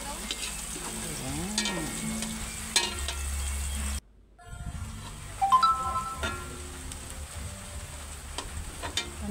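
Onions sizzle and crackle in hot oil in a pan for chicken curry, a steady frying hiss with a few stirring clatters and a short spoken word.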